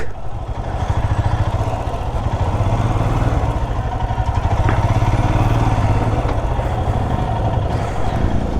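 A motorcycle rumbles at low speed while being parked at a hotel in Ladakh, its engine idling with a steady, close, throbbing chug throughout and no voices.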